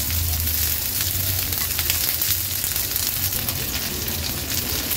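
Chopped onion sautéing in a tablespoon of oil, a dense, continuous close sizzle with light stirring, steady and loud throughout with no talk.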